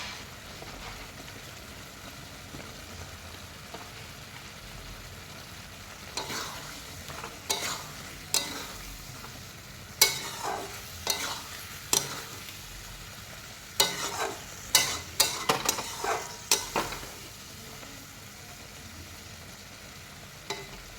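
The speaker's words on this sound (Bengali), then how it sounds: "এরপর আগে থেকে ম্যারিনেট করে ভেজে রাখা চিকেনগুলো এর মধ্যে দিয়ে ভালোভাবে নাড়িয়ে নিলেই রেডি হয়ে যাবে আমাদের চিলি চিকেন" A spoon stirs fried marinated chicken in a pan for chili chicken. Soft, steady sizzling runs under a series of sharp scraping and clinking strokes that grow busier in the second half. No one speaks.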